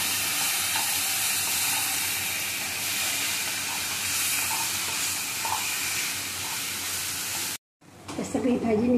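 Wild taklya greens being stir-fried in a pan give a continuous loud, hissing sizzle with stirring for several seconds, then a sudden cut and a short clatter at the end.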